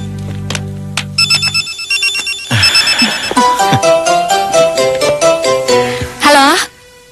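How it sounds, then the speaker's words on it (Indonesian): A telephone rings with a bright electronic ringtone, repeating tones playing loudly and alone with no one talking over it. "Telepon."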